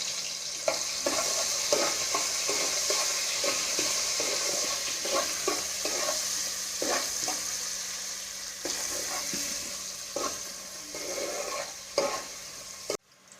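Onions sizzling in a pan with salt while being stirred, steady frying hiss punctuated by frequent spatula scrapes and taps, close and clear with no voices.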